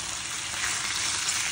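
Onions and meat frying in a skillet, a steady close hiss and sizzle that holds level throughout with no voices.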